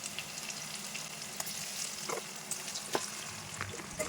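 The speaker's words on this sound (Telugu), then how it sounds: "ఇలా మనం స్టీమ్ చేసుకున్న ఉసిరికాయల పీసెస్ అన్నీ యాడ్ చేసుకొని ఇవి బాగా రోస్ట్ చేసుకోవాలి." Steamed amla (Indian gooseberry) pieces roast in a pan, giving a steady, soft sizzle with a few faint crackles and stirring scrapes throughout. No one speaks.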